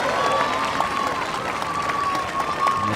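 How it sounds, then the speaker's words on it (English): Crowd applause on court 6 at a tennis qualifying match, a steady patter of clapping with talk over it. "the crowd here on court 6 really enjoying what they're seeing from the French 21-year-old"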